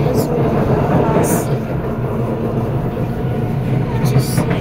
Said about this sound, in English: Watch the train depart because we rush to go home.